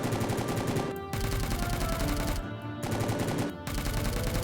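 AK-47 gunfire in the Roblox Prison Life video game, rapid automatic fire in three sustained bursts separated by brief pauses, dense and even in rhythm, with no talking.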